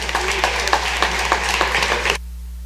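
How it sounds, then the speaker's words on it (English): Applause fills the Mississippi House of Representatives chamber, a rhythmic patter of clapping from a crowd, moderately loud and close, that stops sharply after about two seconds and leaves a quiet room hum. "Please give them a huge round of applause."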